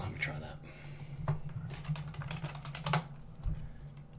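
Rapid, irregular clicking of computer keyboard keys during a tabletop Dungeons and Dragons session, close by and moderately loud, with voices murmuring faintly underneath.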